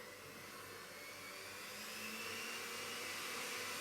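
A steady electric mixer whirs while whisking cake batter for a hedgehog cake, a continuous broadband motor hum that stays level and close throughout, with no talking.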